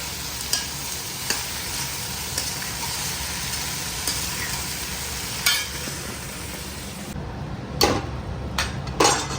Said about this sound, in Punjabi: ਆਪਾਂ ਤੜਕਾ ਤੁੜਕਾ ਲਾ ਲੈਂਦੇ ਆ